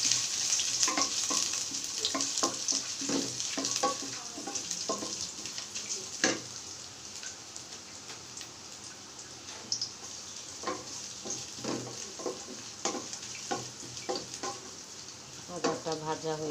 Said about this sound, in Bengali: তেলটা গরম হয়ে আসছে, এখন আমি আদা ছেড়ে দেবো